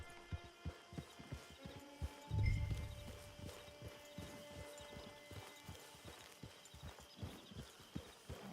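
Horse hooves clip-clop in Red Dead Redemption 2 Online at a steady walking rhythm, close and clear, with a brief low thump partway through and a faint hum underneath.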